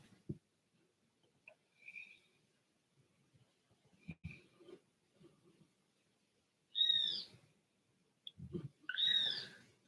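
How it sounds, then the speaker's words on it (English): Sparse bird calls outdoors after rain and thunder: a few faint chirps early on, then louder, squawking cries near the end that sound harsh and scream-like, with quiet gaps between them. "Birds are outside."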